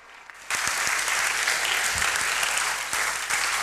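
Audience applause at a University of Veterinary Medicine ceremony in Budapest opening the academic year, starting after a brief quiet moment and continuing as a steady, dense wash of many hands clapping throughout.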